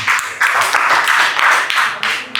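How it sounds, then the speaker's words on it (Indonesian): Audience applause after a group presentation, bursts of dense clapping that swell and dip in waves, fairly loud and close, with no speech over it. "Tepuk tangan."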